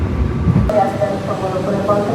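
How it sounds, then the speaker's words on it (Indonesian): A Ranggajati economy-class train pulling into Kebumen station, heard from on board, gives a steady rumble of rolling wheels with metallic squeals and rattles, while a voice talks over it. "perjalanan kereta api Ranggajati tiba di stasiun Kebumen"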